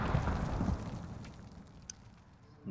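A grenade in a first-person shooter game goes off with a muffled boom at the very start, then rumbles and fades away over a couple of seconds.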